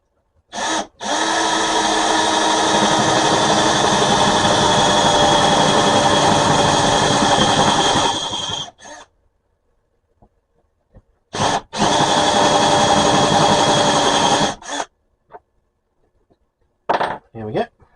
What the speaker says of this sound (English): And now I'll just change drill bit and finish the hole with the small one.